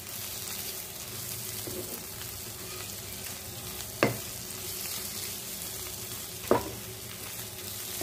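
Spices roast and get stirred in a pan for a Jharkhand rugda mushroom dish: a steady soft sizzle runs throughout, broken by two sharp scrapes of a utensil against the pan.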